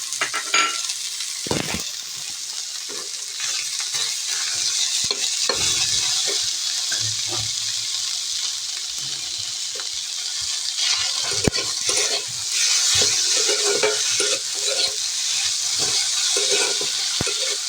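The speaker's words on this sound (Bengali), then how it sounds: "এরপর দিয়ে দেবো আমরা এখানে সেদ্ধ করে রাখা রুটি কুচিগুলো" Boiled, chopped roti pieces go into a pan with egg for a bread pasta and are stirred, producing wet, sloshy scraping and clattering over a low frying sizzle, near and without speech.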